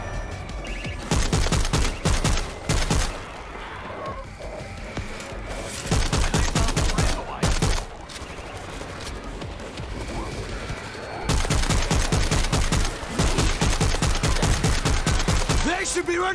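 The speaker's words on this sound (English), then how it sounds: "Check it out! I got an auto turret running!" An auto turret fires rapid bursts in World War Z during a Tokyo zombie-horde mission, loud close machine-gun volleys starting and stopping in long stretches, with other battle noise between bursts.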